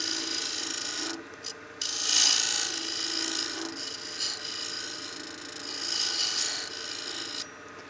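A skew chisel cuts a dovetail on a wooden box on a wood lathe, giving a steady raspy scraping hiss over the motor's hum, briefly breaking off and then resuming close up.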